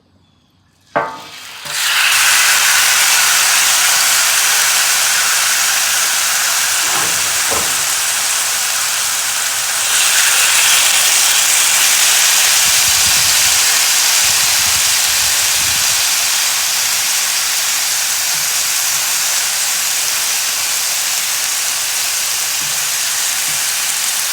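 Chicken placed on a hot barbecue grill, bursting into a loud, continuous bright sizzle that starts abruptly and holds steady to the end, with faint handling thumps underneath.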